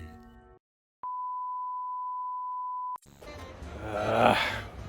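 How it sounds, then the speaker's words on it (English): A single long electronic beep from a reversing truck holds a steady tone for about two seconds, followed by a burst of rough, noisy rumbling, on a street in Sofia, Bulgaria. "Another truck beeping over here."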